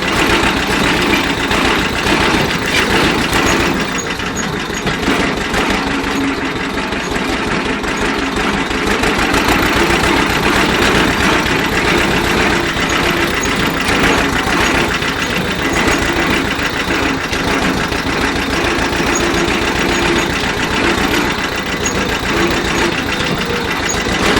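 Vladimirets tractor pulling a trailer in fifth gear, its diesel engine running steadily and loud throughout with a constant rough, knocking chug and rattle, close by and uninterrupted.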